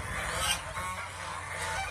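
Domestic geese honk in a steady, overlapping chorus near water, a loud nasal clamour that carries on without a break.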